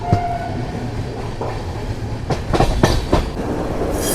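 The Coromandel Express from Chennai to Shalimar rolls along from inside a general coach, a steady rumble broken by a cluster of sharp rail clacks and knocks near the end.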